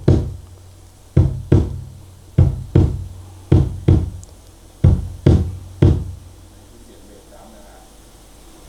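A series of sharp, booming hits from a miked drum kit through a mixer, unprocessed, with short decays, struck singly and in quick pairs at an irregular pace, dry and close, then silence.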